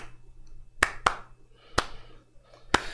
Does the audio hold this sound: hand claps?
yes